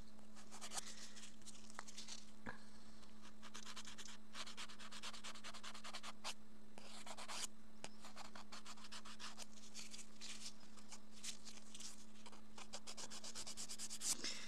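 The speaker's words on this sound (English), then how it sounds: "going in with the harder grit file and pull the sides down like this" Acrylic nails being filed with a harder grit nail file, pulling down along the sides; steady close rubbing and sanding strokes continue throughout, with no talking.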